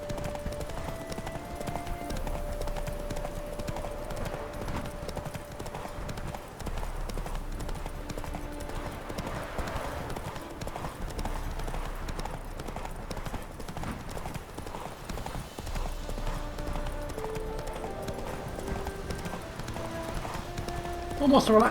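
In The Witcher 3: Wild Hunt, a horse gallops with steady, rhythmic hoofbeats under soft music, the clip-clop continuing throughout.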